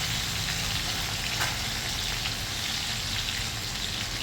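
Finely chopped garlic and green chillies sizzle in hot oil with asafoetida in a pan, a steady, dense crackling hiss that stays even and close throughout, with no voices.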